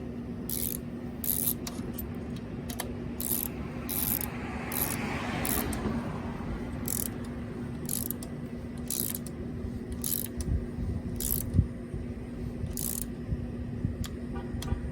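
A torque wrench tightens a bolt on a Gazelle Ultimate C8 electric bicycle's steering, giving a series of short, evenly spaced ratcheting clicks close to the microphone over a faint steady hum, with no talking.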